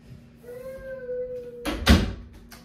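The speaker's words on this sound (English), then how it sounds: "All right, Daddy's going to shut the door," A door is pushed shut indoors, giving a sharp thud and clatter near the end after a brief creak, preceded by a child's drawn-out vocal wail and quiet room noise.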